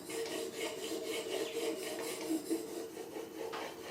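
PM-V11 steel plane blade corners being rounded on a 1200-grit diamond plate in a Veritas honing guide, soft repeated rasping strokes in a steady back-and-forth rhythm, quiet and close.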